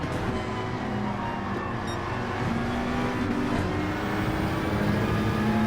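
Race cars in Gran Turismo 7 drone steadily with a continuous mid-level engine hum, one car's tone shifting as it passes by partway through, with no talking.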